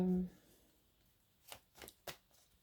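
Oracle cards being shuffled for a reading, a few soft papery riffles and taps close by in an otherwise quiet room, with a brief voice at the start.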